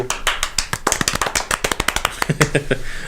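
Audience applause after a short film screening: a quick, dense run of sharp close claps lasting a few seconds, with a voice briefly audible among them.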